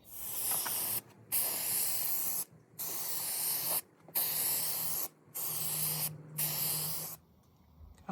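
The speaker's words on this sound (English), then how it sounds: "I'm gonna use the McGuire headlight coating here. So I'm gonna spray it." Meguiar's headlight coating hisses from a spray can outdoors on a windy day, applied to Honda headlamps in several steady bursts of about a second each, separated by brief pauses and heard close up.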